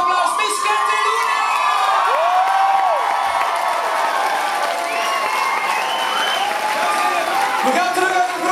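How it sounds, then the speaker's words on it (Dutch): A live television music show crowd cheers and applauds loudly for a performer taking the stage, a sustained wash of clapping, whoops and high shouting that holds steady throughout, with an amplified voice and music faintly beneath. "Geef een groot applaus."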